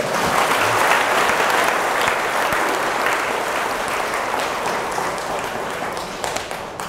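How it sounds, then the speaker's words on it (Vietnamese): Sustained applause from a sizable audience at a Buddhist talk, dense and steady, gradually tapering slightly toward the end, with no talking. "hãy dành một tràng vỗ tay thật lớn"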